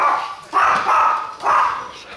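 A small pug barks indoors in a house, three loud, close, bark bursts in quick succession, alone with no talking.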